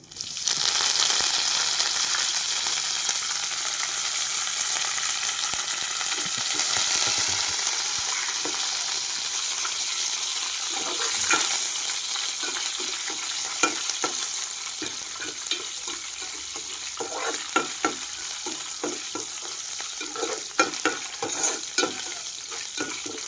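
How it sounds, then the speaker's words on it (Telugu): Cumin seeds frying in a hot pan with a bright, continuous sizzle, scraped and stirred, the utensil scratches and taps growing busier toward the end. "జీలకర్ర వేసుకుంటున్నాను కూడా వేసుకుంటున్నాను"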